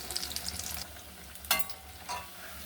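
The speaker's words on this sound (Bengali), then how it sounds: "দেখুন ল্যাংচার মতো করে আমি ভেজে নেব।" Potato and fish roe chops frying in oil, a faint crackling sizzle in the background with a couple of brief clinks or scrapes as pieces are turned.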